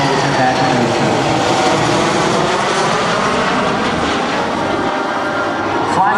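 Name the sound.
jet aircraft flying at airshow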